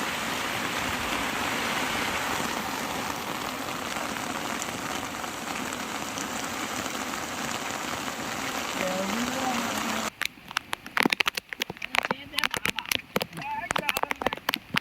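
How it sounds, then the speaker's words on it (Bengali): Heavy rain pours at a campsite as a dense, steady hiss of drops drumming on surfaces for about ten seconds, then thins into scattered, uneven patters and drips. "আর বৃষ্টিটা দেখো কত সুন্দর বৃষ্টি হচ্ছে।"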